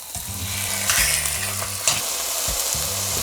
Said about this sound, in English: Just give the pork a quick sear.